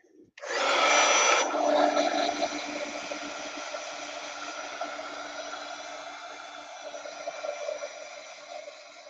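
A heat gun blows steadily for about nine seconds, drying a freshly worked junk journal page; the close hiss kicks in abruptly, then settles into an even, slightly fading airy roar with no talking over it.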